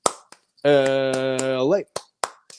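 A single person's sharp hand claps counted out in an eight-clap chant for UCLA Bruins fans, spaced unevenly and loud, with a long drawn-out sung vocal in the middle.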